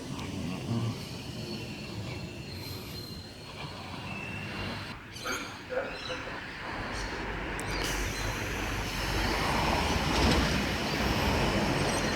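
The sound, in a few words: S-set train S41 departing platform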